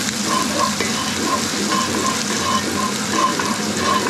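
Aromatics sizzle and pop in a pot while cooking a Cantonese beef riblet and pig trotter stew, a steady crackling fry close by with small, irregular pops over the continuous hiss.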